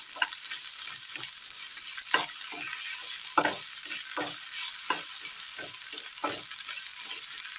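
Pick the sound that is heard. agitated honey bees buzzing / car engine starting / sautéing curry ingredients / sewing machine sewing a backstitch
sautéing curry ingredients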